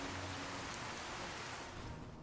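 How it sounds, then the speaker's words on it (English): Rain in Fallout: New Vegas falling as a steady, soft hiss of pattering drops, continuous and fairly faint, with no voices. "That was a very short-lived rain, wasn't it?"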